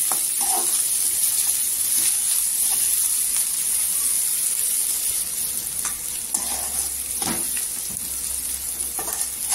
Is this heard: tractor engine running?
no